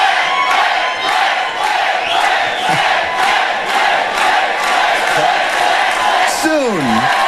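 A dense, loud crowd at a 2001 MuchMusic studio event in Toronto awaiting Stone Temple Pilots roars continuously with cheers and shouts, a few voices rising above the wash.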